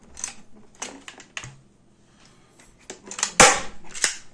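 A nail gun drives a nail into a dog box, giving a scatter of sharp clicks and snaps and then one loud, crisp crack, with faint clattering around it.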